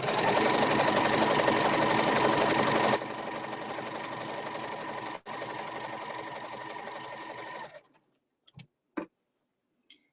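A sewing machine stitches a multiple zigzag stitch around the edge of a shawl: a loud, rapid, steady mechanical whirring with a brief pause midway. It stops near the end, followed by a few faint clicks and knocks.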